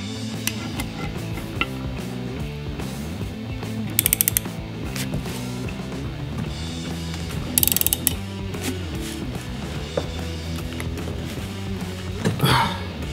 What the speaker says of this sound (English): So you can see it's starting to cut into the nut down here.